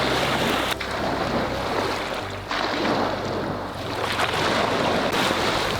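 Ocean surf breaking on the shore during a fly-fishing boat launch for striped bass, a loud continuous wash of waves with heavy wind buffeting the microphone.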